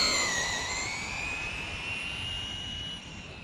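A Traxxas Slash RC car with drag mods, transmission brake on, runs at full throttle outdoors in fading light, giving a loud, high, steady whine that holds and then drops slightly near the end, with no talking.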